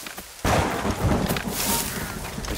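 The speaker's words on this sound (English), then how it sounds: "The storm's getting worse." Thunderstorm in the Assassin's Creed Rogue video game: a sudden loud thunder crack rolls into steady heavy rain and rumbling, continuous and close with no talk.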